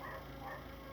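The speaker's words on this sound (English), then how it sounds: "my dogs go after the cats again" Dogs bark and yip while chasing cats, a brief, muffled burst of canine noise that sounds somewhat distant and blurred.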